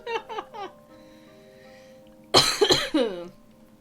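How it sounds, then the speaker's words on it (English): Someone coughs in two bouts: a quick cluster of small coughs, a pause with faint background hum, then a louder, harsher series of coughs. "I don't know why I'm coughing so much."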